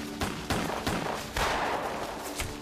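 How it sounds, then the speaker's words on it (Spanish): A burst of gunfire during an exchange of shots in the Decena Trágica, several sharp reports coming in an irregular rapid sequence over a noisy, reverberant background. "se intercambiaron disparos."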